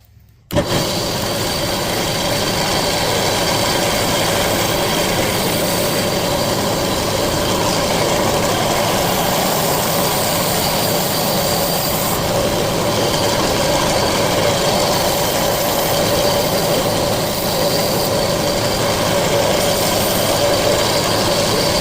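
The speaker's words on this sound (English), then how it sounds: "I'm going to take a grinder like this, and then I'm going to sand it down, try to get it as flat as possible" A power grinder sands a turkey wing feather quill flat, running as a continuous loud whine with a steady droning hum for over twenty seconds, close and uninterrupted.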